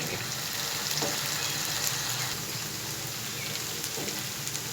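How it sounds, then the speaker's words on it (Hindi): Chopped capsicum fries in a pan for a spicy potato and capsicum sabzi, a dense, continuous crackling sizzle like light rain, close and steady throughout with no speech. "इसको जस्ट हम 1 से सवा मिनट तक बीच में इसको थोड़ा सा हम फ्राई करेंगे"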